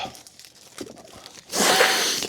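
Faint rustling and small handling noises, then a sudden loud crinkling tear of the plastic packaging of a tattoo pen product being ripped open close by.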